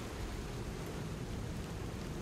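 Steady rain in the dark city of Lies of P, a dense, even hiss with low rumbling underneath, continuous and close, with no voices.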